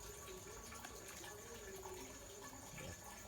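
Small frogs simmer in a pot of water, giving a soft, steady bubbling and sloshing throughout, faint and continuous with a low murmur of background noise.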